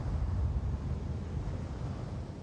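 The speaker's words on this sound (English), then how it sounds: "The engines are functional. There's a vertical thrust." Spaceship engines firing vertical thrust in The Invincible video game produce a low, rumbling, wind-like roar that holds steady and close, a dense bass-heavy drone with no voices.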